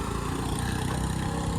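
Traffic passes along a main road in a Konkan village, a steady mid-range engine drone with low rumble holding throughout, no talking.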